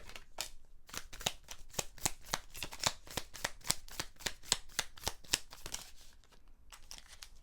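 Tarot cards riffle-shuffled in a long run of quick, crisp flutters, close and fairly loud, ending in a short pause and a few final riffles, with no talk.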